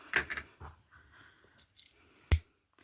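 Scissors snip off extra ribbon while a hair bow is being made. Several quick, close snips come in a short burst, followed by a sharper single cut against a quiet background.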